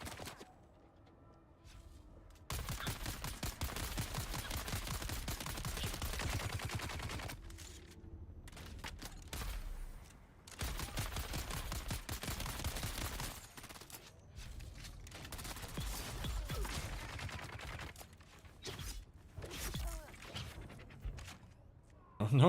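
Bursts of rapid gunfire from players shooting in the video game Dune: Awakening, loud volleys of shots in several long stretches separated by brief quiet gaps, with a voice talking faintly at times.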